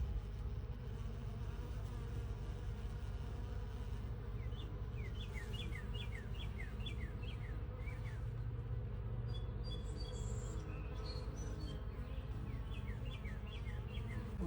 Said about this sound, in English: so many bees are coming in